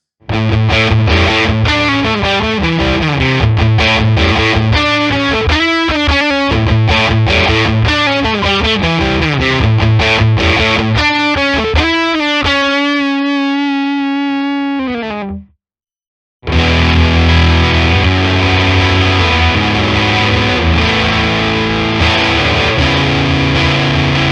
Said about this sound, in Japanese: マヨネーズデフォルトの状態だと結構ファットというか歪みの密度が高い印象ですね。